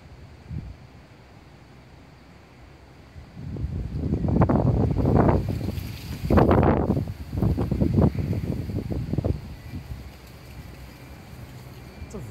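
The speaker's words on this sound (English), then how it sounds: "It's a very windy day today." Wind buffets a Sony Z5 smartphone microphone in rough, uneven gusts, swelling and fading over several seconds against a quieter background hiss.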